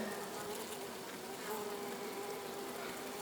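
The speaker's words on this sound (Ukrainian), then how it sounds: "Бджола у відрі спокійна, спокійна, наче це не бджоли, а мухи" A dense, steady drone of many honeybees buzzing close up inside a bucket, continuous and even throughout, with no voices.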